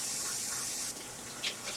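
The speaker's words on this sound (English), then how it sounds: "I am gonna rinse out this red cup so we will be able to reuse it for phase 2" Running tap water rinses out a red plastic cup, a steady hissing spray that shifts slightly as the cup is filled and swirled, with no talk.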